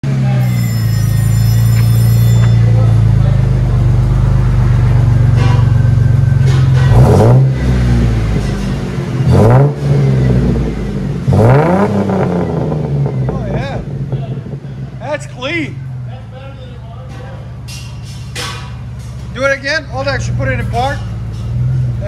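A 2004 Ford Mustang V6 with a Flowmaster Flow FX true dual exhaust idles with a deep rumble, then revs sharply several times, the blips rising and falling, with someone talking over and between them.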